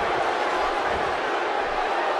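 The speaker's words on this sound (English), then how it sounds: "Don't you listen to this crowd? They're absolutely electric." A wrestling arena crowd at a WWE match in Los Angeles roars continuously, a dense, loud wash of cheering with no gaps.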